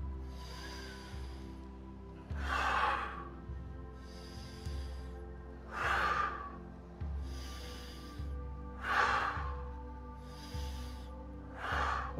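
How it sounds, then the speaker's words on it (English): Slow, deep breaths during a breathing exercise, several audible inhales and exhales in an even rhythm, close and fairly quiet over a low background hum. "Breathe here a couple times."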